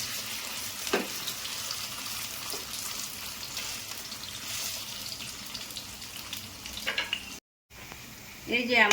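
Crisp taro (kochu) fritters made with taro leaves frying in oil, a steady dense sizzle with occasional stirring clinks and a brief cut near the end before the crackle resumes louder.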